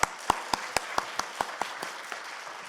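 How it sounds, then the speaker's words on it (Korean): In a church prayer house, a congregation claps in unison, about a dozen sharp, evenly spaced beats in steady rhythm that grow slightly softer toward the end. "우리 좋으신 주님께 크게 박수하겠습니다"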